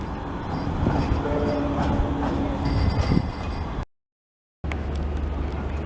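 A Manchester Metrolink tram rumbles along at St. Peter's Square with a loud, steady rolling roar and faint wheel squeal, cut by a sudden brief silence before the noise resumes.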